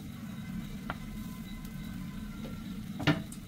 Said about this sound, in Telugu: సో ఇక్కడ పెనం హీట్ ఎక్కింది. ఇందులో అయితే నేను కొంచెం గీ వేస్తున్నాను.